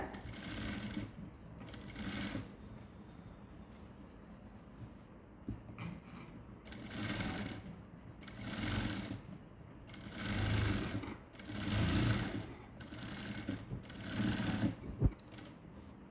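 A sewing machine runs in repeated short bursts, stitching a blouse along its canvas lining in a round cup-dart shape on a 48-inch blouse; the whirring stops and starts about every two seconds with quiet pauses between.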